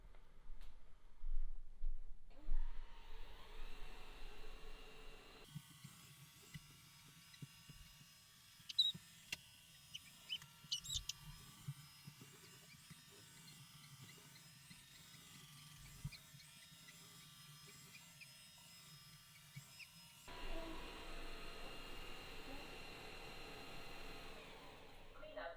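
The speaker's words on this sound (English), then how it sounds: "push the spot button on the vacuum cleaner to initiate that mode" A DreameTech D9 robotic vacuum and mop cleaner runs its spot cleaning mode, giving a steady low motor whir with faint brushing and scattered clicks at moderate distance. Louder bursts of noise open and close the stretch.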